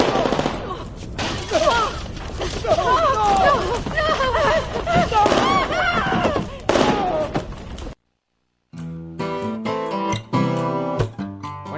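Gunfire and roaring flames from a film scene in Dogville, a dense, loud run of shots and crackling that fills most of the stretch, breaks off into a short silence, then gives way to sharp percussive hits.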